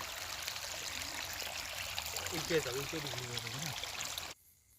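Water rushing steadily through a black irrigation pipe on farmland, a constant gushing flow with someone talking briefly over it before it cuts off abruptly near the end.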